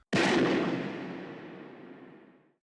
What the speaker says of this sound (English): By the setting sun, Kaji looks to camera and utters his final words, followed by a gunshot.